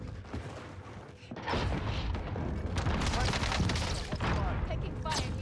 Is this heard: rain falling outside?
no